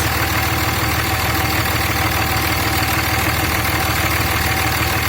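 A 2003 Dodge Ram 5.9 Cummins diesel pickup engine idles steadily with a loud, rumbling clatter and constant mechanical hum throughout.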